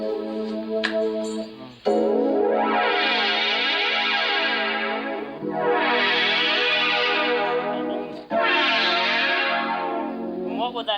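Guitar synthesizer switched to add a parallel fifth, ringing out three long, loud processed chords with chorus and echo, each swelling and sustaining before the next strike, alone without talk.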